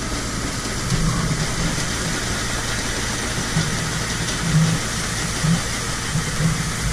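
A steady, low tractor engine rumble runs throughout at a constant idle, not throttled up, with the hydraulic remote on, no speech and slight bumps in loudness.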